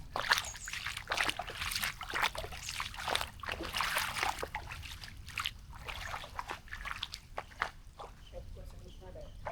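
Scattered drips and light splashes of rainwater patter irregularly throughout after a rain shower, with a person talking over much of it.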